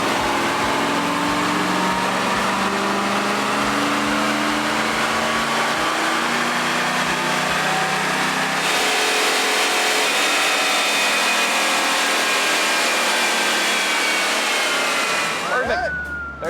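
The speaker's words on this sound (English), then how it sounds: "Chassis dyno pull." A truck engine on a chassis dyno holds a loud, steady roar through a full pull. The rising tones climb gradually, then the engine cuts off near the end with a brief shift in sound.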